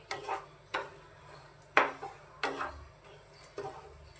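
A spoon stirs plain sugar melting in a pan with no ghee, giving close, crisp clinks and scrapes against the metal at a steady rhythm, about one every half second, with no talking.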